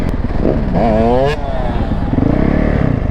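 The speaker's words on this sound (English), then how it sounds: "We got homie on the 150 big wheel." A 150 big wheel dirt bike engine runs close by, revving up in rising pulls, then settling into a rough, steady idle, with voices faintly in the background.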